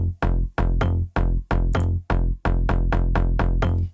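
Slap house bass without sidechain processing plays a punchy, repeated plucked note pattern of about a dozen short hits with fast decays and brief gaps, loud and alone.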